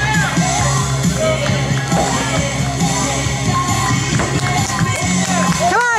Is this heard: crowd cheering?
yes